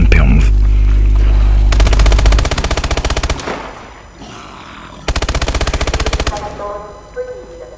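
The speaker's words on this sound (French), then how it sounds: "je viens de revoir tir libre avec la MP11" Bursts of MP11 automatic gunfire in Call of Duty: Advanced Warfare, two long rapid-fire volleys separated by a pause, loud and close with a brief low boom at the start.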